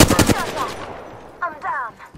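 A quick burst of gunshots in the battle royale game Apex Legends, followed by fainter game effect sounds fading out. No talking over it.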